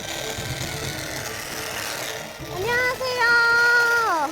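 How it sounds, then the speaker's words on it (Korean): A large electric saw pruning trees outdoors: a rough, rasping cutting noise, then a sharp motor whine that climbs and dips in pitch and grows louder toward the end. "소리를 따라가 보니 대형 전기톱으로 작업 중인 한 사람이 눈에 띄었는데,"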